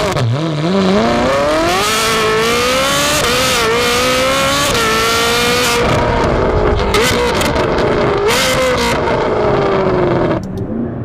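A Ferrari 458's naturally aspirated engine revs up through the gears with a loud, rising high-pitched wail, climbing, briefly dropping at shifts and climbing again before easing off near the end.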